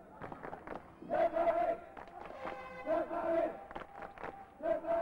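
A packed Keflavík sports hall crowd roars during a 1983 Keflavík–Njarðvík men's cup quarter-final basketball game, with loud swelling bursts of cheering and chanting rising and falling in three waves over a steady background murmur.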